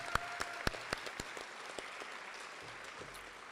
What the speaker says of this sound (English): I'd like a nice round of applause for all the seniors here today.